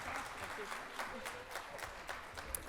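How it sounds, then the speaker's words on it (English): Audience applause for panelists at an education conference in Dubai, a fairly quiet, steady patter of many hands clapping with a few sharper individual claps standing out. "let's give them all a round of applause"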